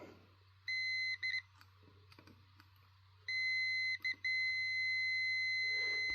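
A multimeter gives continuity beeps while testing the wiring of a 2015 Mustang heated seat: a short beep, a few brief chirps, then a longer sustained tone broken by quick dropouts, loud and clear over a low steady hum.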